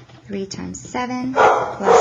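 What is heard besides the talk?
dog barking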